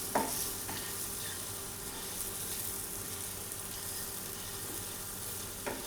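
Egg roast masala sizzles steadily in a pan while being stirred, a dense continuous frying hiss with a couple of sharp scraping clicks at the start and end, no voices.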